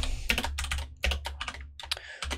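Rapid clicking keystrokes on a computer keyboard come in short irregular bursts with brief pauses, close and clear over a low steady hum, with no voices.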